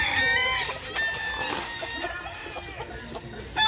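Fighting roosters at a gamecock breeding yard crow and cluck over one another, a dense, continuous chorus of overlapping calls that sounds close and fairly loud.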